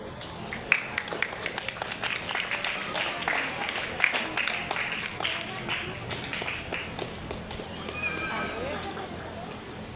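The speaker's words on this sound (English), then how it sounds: "Kindly give a big round of applause" An audience at a school birthday anniversary function in Hyderabad breaks into a dense, steady round of applause for a staff member's 25-year work anniversary, with many hands clapping together and voices mixed in throughout.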